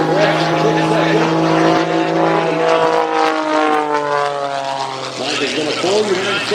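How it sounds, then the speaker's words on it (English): An aerobatic propeller airplane flies at the CAF Airshow 2021, its engine giving a loud, continuous drone whose pitch glides and shifts as it maneuvers. An announcer talks over it throughout. "Most of his flying is in aerobatic aircraft like this one"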